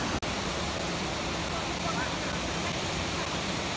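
Waterfall in the Philippines, a steady, dense broadband roar of falling water filling the scene, with a brief dropout near the start and no talking.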